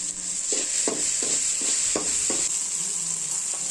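Onion and tomato sautéing in a pan for egg noodles: a steady bright sizzle runs throughout, broken by a regular series of spatula stirs and scrapes, close and fairly loud, with no talking.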